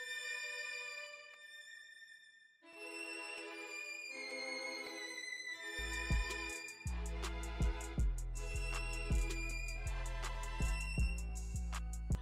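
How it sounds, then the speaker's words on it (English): Dark southside-style beat melody in which layered violin chords sustain beneath a violin counter melody, joined midway by a heavy booming bass and punchy drums that hit in a steady pattern. "I started making those violin chords, and they playing together sound like this"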